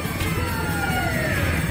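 In GTA V, an ambulance siren wails at a steady, loud level with sweeping rising and falling tones. Constant engine and traffic noise from the game sits beneath it, and no one speaks.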